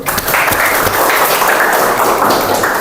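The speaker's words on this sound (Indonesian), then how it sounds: "Oke, Terima kasih, tepuk tangan dulu." A classroom of students claps together in a short, even burst of applause, close and fairly loud, with no talking over it.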